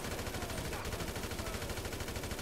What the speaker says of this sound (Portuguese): Os carinhas tão atirando em mim